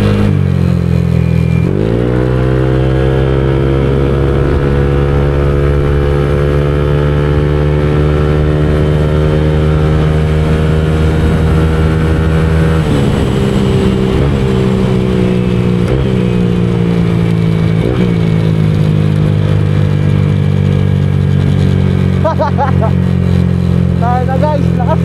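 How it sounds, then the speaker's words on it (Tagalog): Honda Click scooter with a 59mm bore-up engine revs hard, its loud buzzing note climbing steadily in pitch, then easing off and blipping a few times. Someone talks over it now and then. "So guys, so yun ang Honda Click 59 natin."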